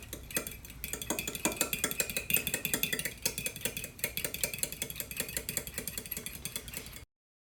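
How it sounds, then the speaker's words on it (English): A fork beats eggs and milk in a bowl, producing rapid, even clicking and tapping against the bowl in a steady close rhythm that stops abruptly. "I'm gonna keep whisking until my egg yolks are completely broken and my eggs are a nice creamy yellow color"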